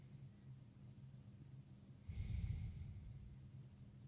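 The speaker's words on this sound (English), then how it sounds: "start to breathe a little bit more slowly, a little bit more deeply, a little bit more intentionally" A single slow, deep breath drawn in through the nose, a soft, close, airy rush that swells midway and then eases off into a quiet hiss, heard alone without speech.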